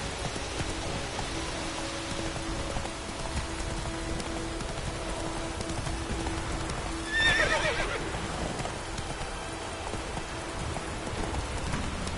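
Roach, the horse in The Witcher 3, gives one short neigh partway through over steady rain and a faint background hum.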